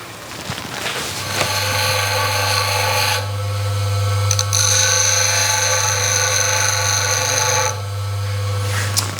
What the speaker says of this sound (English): So let's go to the grinder, you'll see me come back and you'll see the difference once we've got that sharpened.